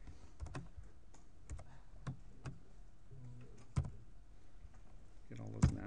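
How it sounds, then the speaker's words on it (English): Typing on a computer keyboard during a programming lecture, a steady run of close, crisp key clicks with irregular spacing and a couple of louder thumps, while a voice talks faintly underneath. "as you can see, my typing hasn't improved."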